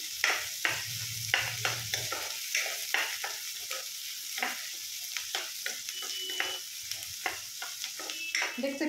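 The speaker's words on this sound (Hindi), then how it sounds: "इन सभी को डाल दूंगी। और इसे ना गोल्डन ब्राउन होने तक फ्राई कर लूंगी।" Chopped ginger, garlic and green chili fry in a pan for mixed greens, a steady close sizzle broken by repeated scraping stirs, with no talking.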